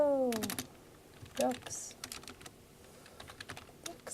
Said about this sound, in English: so if I just start typing, oh, there we go.